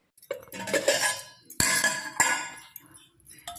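A dish of homemade curd being covered, with loud clattering of a metal lid and vessel, several sharp clinks and scrapes in quick succession, close up and without talk.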